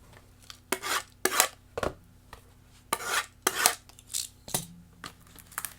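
A 2019 Topps High Tek Derek Jeter baseball card is scratched repeatedly, a series of short, close, raspy scrapes in uneven bursts with brief pauses between strokes.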